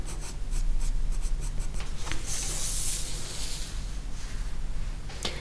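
A pencil shades a drawing of an autumn leaf in close, continuous scratchy strokes, steady and dry with brief pauses between passes and no talking.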